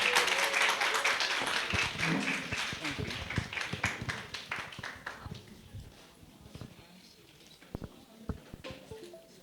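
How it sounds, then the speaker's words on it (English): Audience applause at a Central European conference on quality education starts as full, busy clapping, thins over several seconds and trails off into a few scattered, separate claps in a quieter room. "An applause for them."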